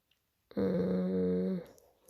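A small ginger dog gives one close, steady growl lasting about a second, with no voices around it.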